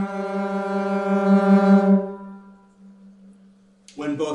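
An electric cello run through a quarter-tone pitch-shifting pedal holds one steady, buzzy low note with layered detuned tones for about two seconds, then fades to a faint hum before a brief burst of another sound.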